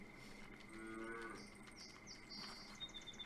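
A cow in the video game Ghost of Nature lets out a single drawn-out moo, faint and close, with light chirping in the background.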